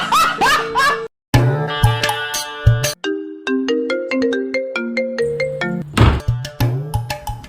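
A phone's musical ringtone for an incoming call, a loud melodic electronic tune playing continuously near the listener.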